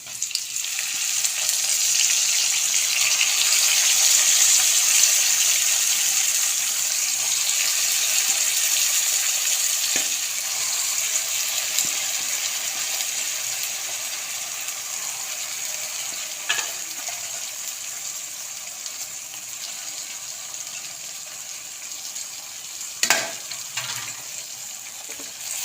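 Washed gongura leaves fry in a pan, giving a steady, loud, bright sizzle that swells early and eases slightly, with a few sharp clicks of a spoon or pan near the end and no talking.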